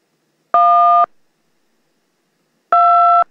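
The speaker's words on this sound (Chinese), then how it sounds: "按下去会播出电话的键盘的声音。" Telephone keypad tones played from an on-screen keypad: two separate clean, loud dual-tone beeps, each about half a second long, spaced roughly two seconds apart against near silence.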